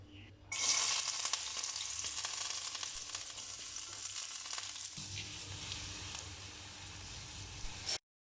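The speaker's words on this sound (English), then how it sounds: "First fry your garlics until it turns to golden color." Garlic frying in hot oil in a pan, a steady dense sizzle that starts abruptly after a brief quiet moment and continues loud and close until it cuts off.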